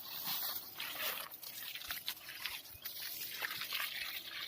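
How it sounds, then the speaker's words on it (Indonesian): Water trickles and splashes from a tap-fed hose onto the ground around a durian tree in an orchard, a faint, continuous dribbling with small irregular splashes and no one talking. "Kita nyiram pohon berikutnya."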